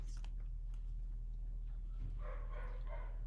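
Dogs bark inside a house, a couple of short barks near the end over a steady low mains hum and faint household noise.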